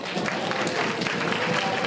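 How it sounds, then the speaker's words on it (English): Dense applause from a crowd fills the whole moment, steady and fairly loud, with no break. "So give yourselves a big round of applause for coming along."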